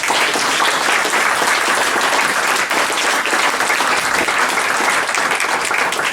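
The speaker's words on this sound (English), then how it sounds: "let's give Tim a big round of applause" A large crowd at a start-up competition event claps and applauds steadily and loudly throughout, with no pause and no talking.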